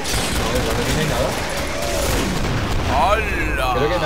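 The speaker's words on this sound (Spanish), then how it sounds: "Toma explosión." Explosion in the co-op shooter Killing Floor, a loud sustained roar of blasts and gunfire running the full length with dense rumbling and debris.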